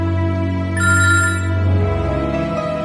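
A telephone rings with an incoming call, a steady electronic ringtone with bright layered tones playing loud and close for about three seconds, with no voices over it.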